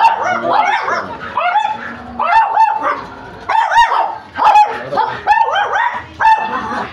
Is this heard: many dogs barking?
yes